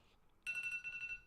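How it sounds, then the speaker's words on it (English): An alarm going off during a live stream, a short high electronic tone sounding in two quick bursts, faint and brief. "That's the alarm that was supposed to set me up to make sure I was on time."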